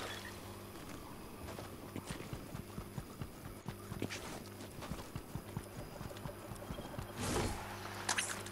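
Horse hooves clop at a steady walking pace as someone rides nearby in Fortnite, fairly faint against low background game noise, with a brief louder rustle near the end.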